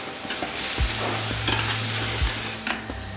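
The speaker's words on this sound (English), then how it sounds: "We're just going to give that a little bit of a stir around." Red wine vinegar being stirred around a pot of goulash to deglaze the bottom, a loud close sizzle with scraping stir strokes and a low tonal hum underneath.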